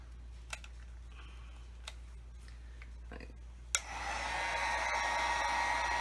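A heat tool on low setting drying a distressed photograph switches on partway through and runs as a steady blowing hiss, after a few light ticks and clicks of handling.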